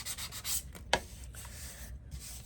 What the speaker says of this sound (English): Sand a little bit just so that it's nice and smooth on the top